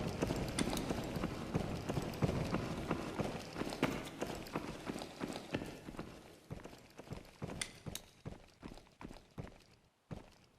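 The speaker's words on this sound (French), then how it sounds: "Il y a clairement eu un seul bruit de pas." Footsteps in a first-person extraction shooter, a run of sharp steps and clumps that thin out into separate, spaced thuds, fairly close over a busy background.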